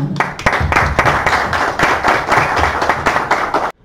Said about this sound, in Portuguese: Gabriela, uma salva de palmas, né, cara?